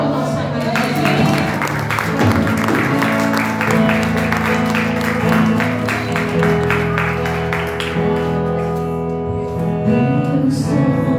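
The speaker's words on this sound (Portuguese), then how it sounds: "Aplauda o nosso amado Jesus." Church congregation applauding during a Holy Communion service, steady clapping blended with sustained worship music and voices throughout.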